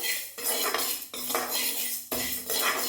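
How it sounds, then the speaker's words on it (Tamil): Toor dal roasting in a pan for paruppu podi, with a metal spoon scraping and clattering against the pan in steady strokes and a few sharper breaks, close and fairly loud, with no voices. "இப்போ வந்து துவரம்பருப்பு வறுக்கிறேங்க"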